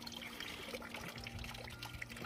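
A faint, steady trickle of cold water runs from a drinking fountain on a nature trail in Vitosha Nature Park, with soft dribbling and splashing throughout.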